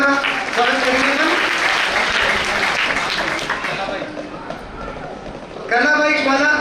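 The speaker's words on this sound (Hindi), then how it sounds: "तो इन सब भक्तों की ओर से एक बार जोरदार ताली द्वारा स्वागत करेंगे।" Loud, sustained clapping from a crowd at a temple donation ceremony welcoming devotee donors, a dense wash of applause running nearly the whole time with voices calling over it toward the end.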